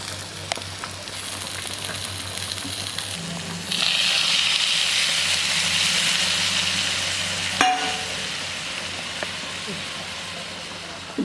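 Steady sizzling and hissing from marinated fish frying in a pan, swelling louder partway through, with a few clinks and a low hum underneath.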